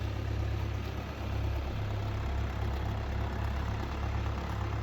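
A John Deere 5310 tractor with cage wheels hauls itself out of a muddy paddy field, its diesel engine holding a steady low rumble at moderate distance, no voices over it.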